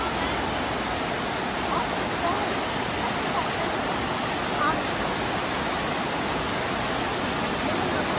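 Dunn's River Falls in Jamaica roars as a steady broadband rush of cascading water, close and constant throughout, with faint voices of people nearby.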